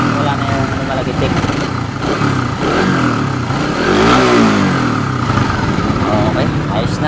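A Suzuki Rider 150 fuel-injected motorcycle engine runs steadily after a cam chain tensioner adjustment, a close, even idle with a mild rise in revs midway and no ticking.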